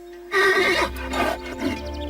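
A cartoon horse neighs loudly and close, one long whinny with a shaky, trembling tail that fades out over about two seconds, alone with no talking.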